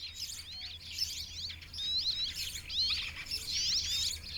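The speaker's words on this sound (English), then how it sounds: "inhabited by a number of birds, including tits and the shy rock sparrow" Tits and rock sparrows chirp among limestone cave dwellings of the Sassi of Matera, with repeated high, thin twittering phrases in short bursts over a low steady background hum.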